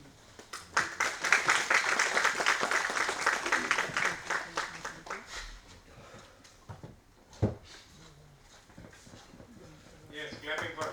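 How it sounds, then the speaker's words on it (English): Audience clapping at a junior faculty development program as a nursing faculty member is acknowledged, a dense burst of claps in the first half that thins out, with talk and some knocks underneath. "clapping for her."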